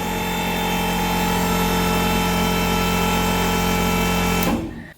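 Car engine fitted with a Holley Terminator X fuel injection system running with a steady loud mechanical hum and whine that cuts off abruptly near the end, leaving quiet.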